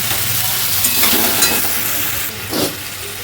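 Paneer gravy sizzles hard in a hot pan as hot water goes in, a loud steady hiss with a brief burst of bubbling and steam near the end.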